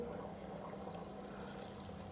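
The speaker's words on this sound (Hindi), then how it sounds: "अब मैं चावल डाल दूँगी।" Soaked rice pours into a pot of boiling water with stewing chicken for spicy chicken biryani, giving a steady close rushing, splashing wash with no voices.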